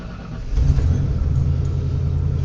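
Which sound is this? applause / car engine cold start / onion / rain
car engine cold start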